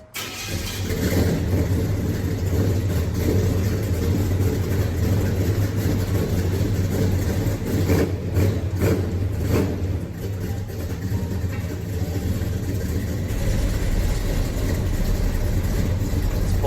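A 1970 Chevrolet Chevelle with a 454ci big-block V8 rumbles steadily and loudly close by, a deep continuous idle with slight surges partway through, no voices.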